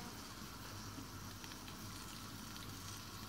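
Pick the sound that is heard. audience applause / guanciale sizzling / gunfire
guanciale sizzling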